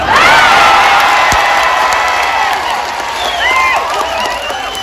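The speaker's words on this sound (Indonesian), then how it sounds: "Yang terakhir harus kenceng tepuk tangannya" Crowd cheering and clapping at an outdoor Islamic religious gathering in a Taichung park in Taiwan, loud and sustained, with high whoops and shouts riding over the noise of the crowd.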